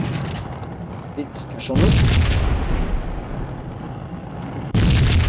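Explosions in the video game Max Payne: two heavy, loud blasts about three seconds apart, each followed by a sustained roaring rumble, with a brief spoken French line and other game sounds before them.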